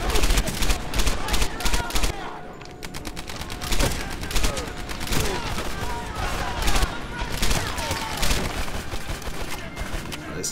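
Dense rapid gunfire in the WWII shooter Medal of Honor Airborne, with loud continuous bursts of rifle and machine-gun fire and only a short pause, under game voices and effects.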